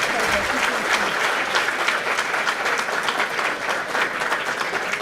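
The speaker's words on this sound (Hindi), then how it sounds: "एक बार मैं चाहता हूं कि उसके लिए जोरदार तालियां" A Hindi conference audience at a G20 event on women's empowerment gives loud, continuous applause, an even wash of many hands clapping throughout with no pause.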